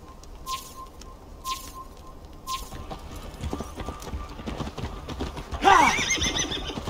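A horse in Assassin's Creed Valhalla gives several sharp, close neighs near the start, then its hooves clop and shuffle, with a brief bird call near the end.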